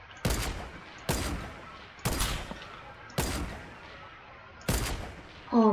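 Bursts of gunfire from a shooter video game, five sharp volleys spaced about a second apart, loud and close, with a brief tonal game sound at the end.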